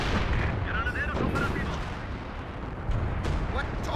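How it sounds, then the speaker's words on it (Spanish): Artillery fire in the World War II strategy game Company of Heroes 2, a steady thunder of heavy booms and blasts over a busy battlefield, with a voice talking faintly underneath. "Artillería ahí"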